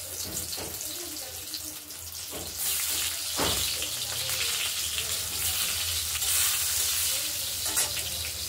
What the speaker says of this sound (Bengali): পটলগুলো একটু লাল লাল করে সব দেবো, দিয়ে লাল লাল করে একটু ভাজা করে নেব।